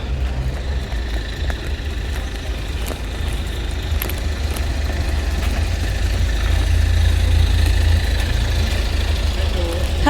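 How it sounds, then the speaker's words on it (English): A taxi car's engine idles nearby on the street, a steady low rumble that swells a little louder partway through, with faint ambient clatter and scattered small sounds around it. "So that's the taxi there."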